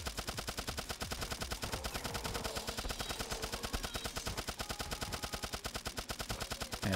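Rapid, continuous gunfire from the video game Turnip Boy Robs a Bank, with shots fired nonstop to clear debris, forming a loud, steady machine-gun rattle throughout.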